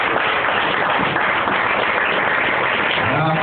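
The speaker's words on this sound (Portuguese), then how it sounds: "bate palmas bem forte para Jesus" Congregation at a church service clapping hands loudly and continuously, a dense steady wash of applause filling the room for a few seconds.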